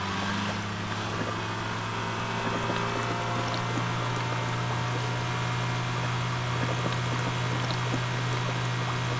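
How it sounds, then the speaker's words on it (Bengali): Fuel pouring into a vehicle in the driving survival game Drive Beyond Horizons, a steady continuous gurgling flow layered over a constant low engine hum, loud and unbroken throughout. "তেল পড়ার শব্দ আমি পাইতেছি।"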